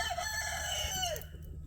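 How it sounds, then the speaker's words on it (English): Roosters crow on a homestead, a long harmonic call rising and falling clearly over steady background noise before cutting off near the end. "hear the roosters back here. They've been fussing at me"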